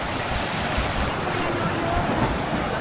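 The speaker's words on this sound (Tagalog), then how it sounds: "Sumasampal yung tubig dito eh." Sea water washes and slaps against the hull of a small bangka boat in a continuous rough hiss, with gusting wind buffeting the microphone throughout.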